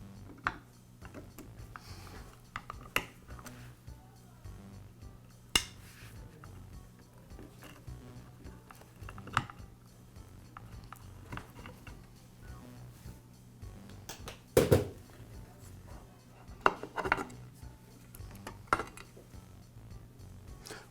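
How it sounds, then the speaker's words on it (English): Metal parts of a Milwaukee metal-cutting saw click and clink as the large retaining ring and lower guard come off, scattered faint taps and scrapes over a quiet room with a few sharper knocks. "Now remove the lower guard. The guard's secured with a large retaining ring."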